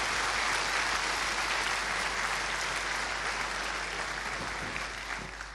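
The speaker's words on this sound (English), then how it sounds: "So give a round of applause," A large audience at the FOSDEM open-source conference applauds the organizers and volunteers, a loud sustained roar of clapping that tapers slightly at the end.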